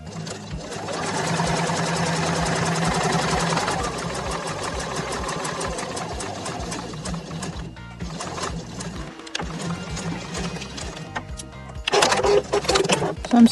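Fabric scraps and a denim tote run through a sewing machine in a loud, steady whirr that holds for long stretches, briefly stops, then starts again.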